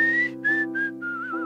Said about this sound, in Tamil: So sometimes when I compose, when I sing the songs, I whistle for them.